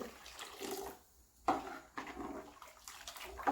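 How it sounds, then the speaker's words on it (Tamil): Water splashes and pours into a cooking pot for potato curry in a few uneven bursts, with a steady watery rush between them. "அதை ஊற்றிட்டு தேவையான அளவு தண்ணி ஊற்றிக்கலாம்"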